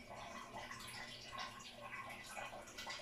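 Hot water poured from a container into a cooking pot of chicken, a steady, soft rushing splash that continues for several seconds at low volume.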